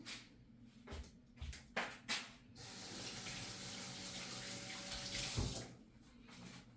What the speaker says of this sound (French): Et puis, je me lave les mains.